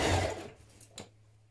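Sewing machine stitching a 1.5 cm seam along the outer leg of a loungewear trouser, a short close whirring burst that fades out, followed by a faint click.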